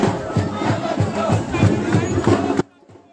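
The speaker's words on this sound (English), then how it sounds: "everybody is jubilating and celebrating with him right there" A political rally crowd cheers and celebrates in rhythmic waves of chanting and shouting, loud and dense, with pulsing beats under the roar before it cuts off abruptly into near silence.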